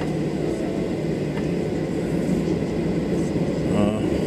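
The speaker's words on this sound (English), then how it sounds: "There's a plane coming right at us here." At Boston airport, an approaching airplane produces a steady, broad engine roar that builds slightly toward the end, with people talking in the background.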